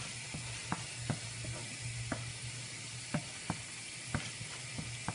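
Tomato sauce sizzles and fries in a pan while a spoon stirs it, with a steady hiss and a handful of light scraping clicks spread at uneven intervals.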